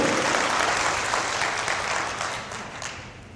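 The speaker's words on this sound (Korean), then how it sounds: "박수 한번 치세요. 박수." An audience at a 2010 Korean self-development lecture applauds, a dense steady wash of clapping that stays loud and then tapers slightly toward the end, with no voices over it.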